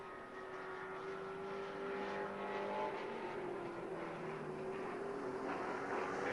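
Race cars roaring around an oval track down the backstretch toward turn three at a season-opening race, a sustained engine drone heard from a distance, rising and falling in pitch as the cars pass.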